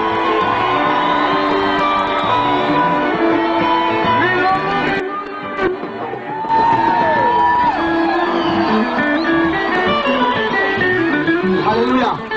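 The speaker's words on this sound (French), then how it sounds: "Applaudissons le Seigneur pour cet serviteur." A large crowd at an evangelistic crusade in Kinshasa, Congo, cheers, whoops and shouts continuously, a dense wall of voices with clapping mixed in, loud and sustained.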